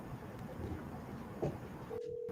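A faint electronic phone tone sounds briefly near the end, a steady beep under a low, muffled background hum.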